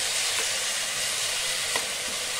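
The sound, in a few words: tomato chutney being stirred in a sizzling pan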